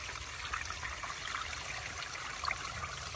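Stream water trickling off a rock ledge into a collapsible filter bag on the Appalachian Trail in Connecticut, a steady close splashing that runs without a break and has no voices over it.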